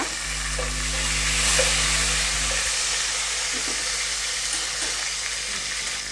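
Tomato sizzles in a pan for khara pongal, a dense, continuous hissing fry heard close and fairly loud, with a few soft stirring scrapes and no talking.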